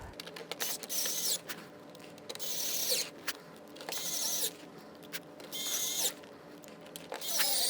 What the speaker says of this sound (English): I'm going to be taking these 8 screws and putting them in place.